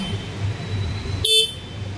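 A single short, sharp toot of the single horn on a Suzuki V-Strom 250 adventure motorcycle, sounding close and loud over a low engine idle.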